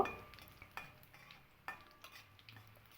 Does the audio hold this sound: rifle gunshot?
no